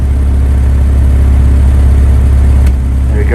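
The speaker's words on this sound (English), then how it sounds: "if you listen to the exhaust note," An Isuzu Piazza's loud, low exhaust rumbles steadily at idle, with a regular pulsing throb, a small puff every few seconds, and a brief sharp click near the end.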